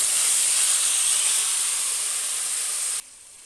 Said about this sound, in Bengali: টমেটো যতক্ষণ না সেদ্ধ হচ্ছে তখন একটু ভেজে নেব